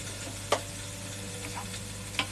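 Pork steaks fry in a smoking-hot Ninja pan with a quiet, steady sizzle, broken by two sharp pops about two seconds apart.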